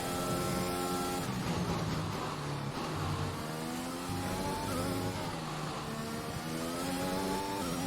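Formula 1 car engine in F1 2021 at the San Marino GP, a loud high-pitched whine rising and falling through upshifts and downshifts as the car brakes and accelerates through a chicane, steady and close throughout.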